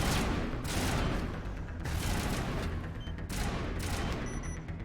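Rapid bursts of gunfire from the video game Mass Effect Legendary Edition, three or four loud volleys in close succession with short gaps between them and no talking.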